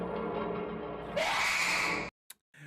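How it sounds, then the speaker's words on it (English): In the horror visual novel game The Letter, a sudden loud scream rises sharply in pitch and holds for about a second. It breaks off into silence, followed by brief faint noises. "Why is it immediately a scream?"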